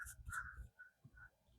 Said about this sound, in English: there are like very loud birds out my window